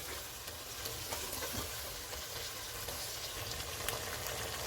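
Koftas frying over a medium flame in a pot for kofta biryani, a soft continuous sizzle with occasional stirring clicks, close and quiet with no voices.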